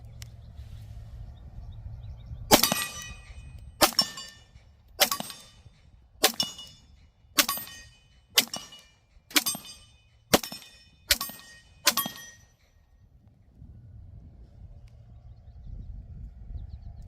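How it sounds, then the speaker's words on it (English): A Glock 20 Gen 4 10mm pistol fires ten sharp shots at steel targets, each report followed by a ringing metallic clang, spaced about a second apart, with quiet outdoor background before and after. "So we're going to shoot both targets."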